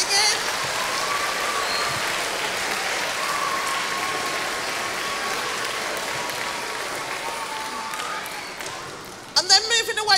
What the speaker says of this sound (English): can we have a round of applause for everybody who's been in a play or singing?